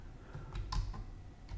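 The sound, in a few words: computer keyboard keys pressed to move machine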